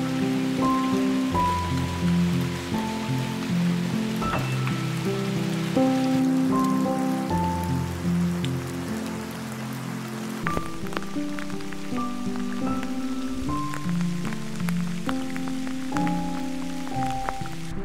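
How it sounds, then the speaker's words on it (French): Steady rain falling outdoors in the countryside during wildlife photography, a continuous soft patter close by that runs unbroken throughout, with faint tonal sounds layered over it and no voices. "Il pleut un petit peu mais c'est pas hyper désagréable"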